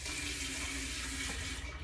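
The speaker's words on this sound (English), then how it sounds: "I'm gonna put half a cup of warm water in it." Warm tap water runs steadily into a measuring cup for a sourdough starter feeding, a continuous close, full splashing rush with no break and no voices.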